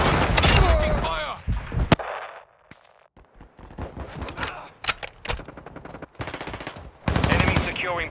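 Gunfire in the video game Call of Duty MW2, with sharp single shots and rapid automatic bursts that come in clusters separated by brief lulls, loud and close, with game voice callouts mixed in.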